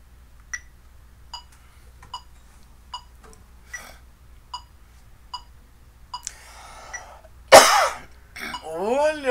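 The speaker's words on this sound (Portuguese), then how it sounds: "Olha a primeira tosse de hoje aqui." A single loud, close cough bursts out near the end, after a run of soft, evenly spaced ticks, and is followed at once by a voice speaking.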